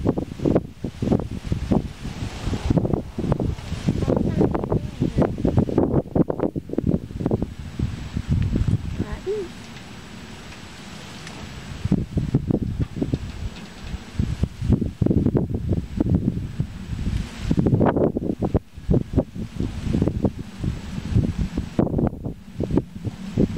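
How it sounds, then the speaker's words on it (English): Strong wind buffeting a microphone outdoors at an airport, heavy low rumbling gusts that come and go, loud in bursts with a calmer stretch in the middle, while a person talks intermittently. "Gosh, it's windy."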